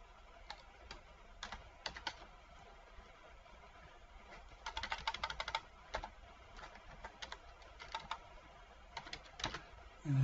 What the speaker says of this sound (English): I'll type in its description